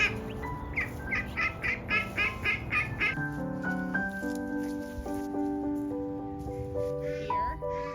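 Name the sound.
young ducks learning to quack and honk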